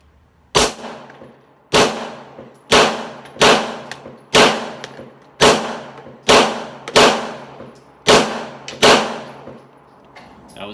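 Ten single-action pistol shots fired at a range, evenly spaced about one second apart, each a loud sharp crack with a short ringing decay, no talking.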